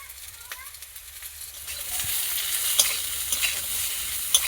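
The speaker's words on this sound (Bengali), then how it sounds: "মূলো আর আলু কিছুক্ষণ ভাজার পর আমি পোস্ত বাটা দিয়ে দেবো" Radish and potato pieces fry in a pan with a steady bright sizzle, broken by occasional scraping stirs and clicks of a utensil against the pan.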